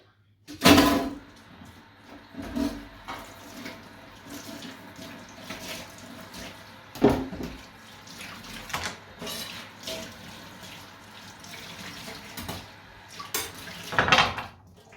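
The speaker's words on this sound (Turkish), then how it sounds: "balıkları güzelce temizledim. Şimdi yıkayacağım." Large cleaned fish rinsed under a running kitchen tap, water splashing into the sink with intermittent clatters of pans and dishes, close and clear, no speech.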